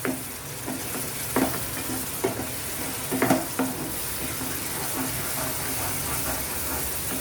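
Tomatoes cooking in a pan for egg masala, a steady hissing sizzle with several brief knocks and scrapes of stirring early on, then a continuous even fry.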